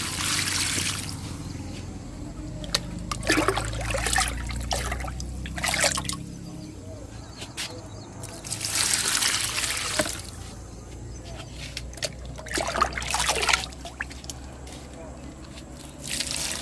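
Liquid fertilizer is poured from a jug onto a garden plant, giving several separate bursts of splashing trickle and sloshing water, fairly close, with quieter gaps in between.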